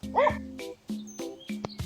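A dog barks outdoors in several quick, yelping bursts at close range, with brief gaps between the barks.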